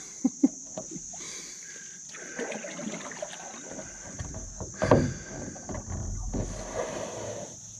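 Paddle strokes and water sloshing from a Northstar Northwind Solo canoe paddled from a kneeling position, with a few sharp knocks early on, then steady splashing and a louder surge of water midway, fairly close and moderately quiet.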